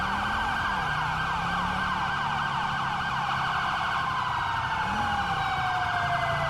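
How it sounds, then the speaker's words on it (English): Several wailing police sirens in a video game, Grand Theft Auto V, overlap continuously, rising and falling in pitch over a steady high electronic tone, with no talking. "So many sirens."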